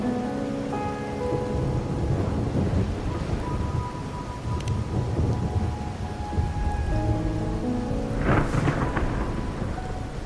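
Steady heavy rain pours in the Wuthering Waves rainy night scene while low thunder rumbles beneath it and a sharper crack of thunder breaks through near the end, with no talking.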